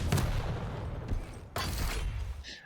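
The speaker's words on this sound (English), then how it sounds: "The heavy machine gun will melt psygib." Heavy machine gun fire in a competitive arena shooter match, loud dense bursts of rapid shots with a brief pause in between, close and harsh.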